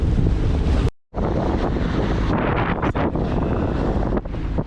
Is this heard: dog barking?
no